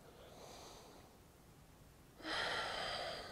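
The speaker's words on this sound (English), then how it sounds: "One more breath here." Breathing during a yoga exercise, a soft exhale followed by a sharper, louder inhale near the end, close and faint, with no talking.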